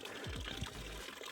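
Cold spring water flows from a natural drinking source as a soft, steady trickle, faint and close, with no voices over it.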